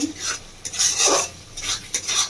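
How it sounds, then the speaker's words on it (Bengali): A spoon scrapes and clinks around a pan as yogurt is worked into frying spice paste for doi potol, a few close, uneven stirring strokes without talk. "আস্তে আস্তে মশলার সঙ্গে দইটা মিশিয়ে নেবো আমি"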